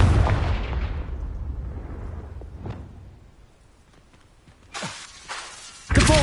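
Confringo fire spell blasts from the Hogwarts Legacy video game on PS5: a loud booming burst opens, then fainter whooshes and thuds follow, with sharp cracking explosions near the end.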